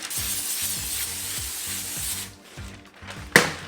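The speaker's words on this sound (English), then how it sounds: "I'm going to spray it with some nonstick olive oil spray." Short hissing bursts of a nonstick olive oil aerosol spray, a few quick pumps close by, followed by a brief pause and a sharp tap.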